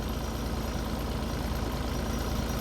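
SK1550 log splitter engine held at idle, a steady, dense, moderately loud mechanical drone that runs unbroken and alone without variation.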